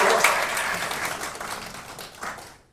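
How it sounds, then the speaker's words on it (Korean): Audience applause at a Democratic Party labour policy forum in Daegu, a brief burst of clapping that swells at once and then fades out. "격려사 열렬한 박수로"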